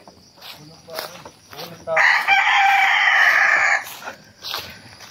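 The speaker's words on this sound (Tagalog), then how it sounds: "May mga alagang manok rito eh." A rooster crows loudly and close by for about two seconds in a forest, surrounded by softer clucking and scattered calls from domestic chickens.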